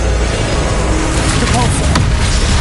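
A Depulso force spell cast in Hogwarts Legacy, a loud dense booming blast across a short burst of game noise, with a voice present underneath.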